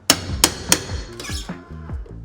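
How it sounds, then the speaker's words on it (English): A hammer knocked into a wall stud while taking out a 2x4 during wall demolition: three sharp, loud blows in quick succession, followed by softer rattling and tonal after-sounds. "And then you can throw your hammer in here, wedge this, cut the nails"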